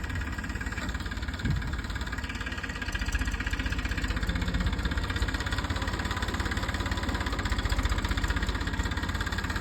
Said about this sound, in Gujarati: જો ભાઈ ટ્રેક્ટર આવી ગયો છે